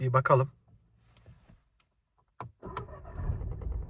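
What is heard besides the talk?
Volkswagen Golf 8 1.0 TSI engine starting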